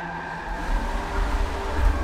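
A Mazda Miata MK5 spec race car in a sim racing game roars close with a steady engine drone and low rumble as it nearly slides away through a turn; no one speaks.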